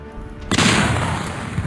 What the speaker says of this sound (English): So there's a loud gunshot.